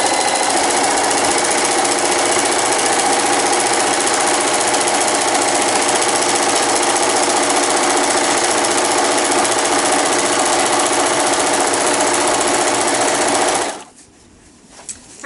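A sewing machine zigzag-stitches along a fabric edge with a loud, fast, steady mechanical whir and rapid needle chatter that runs for about fourteen seconds, then stops, followed by a few faint handling sounds.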